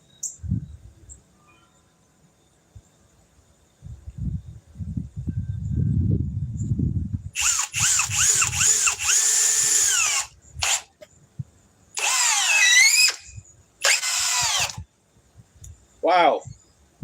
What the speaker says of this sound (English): I guess this battery does give this drill a lot more get up and go juice.